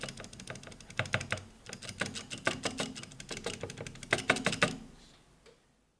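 Rapid typing on an Altar 1 mechanical keyboard with dry, unlubricated stabilizers, a close flurry of clacky, rattling keystrokes with uneven rhythm that stops near the end.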